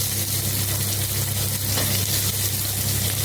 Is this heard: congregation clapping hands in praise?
no